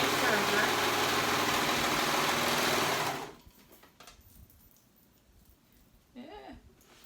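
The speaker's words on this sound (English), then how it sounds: "That's why I'm using my serger." A serger overlocks the fabric edge of a kids' moto pants pocket, running as a loud, steady mechanical buzz for about three seconds before stopping abruptly, leaving quiet handling noises and a brief rustle near the end.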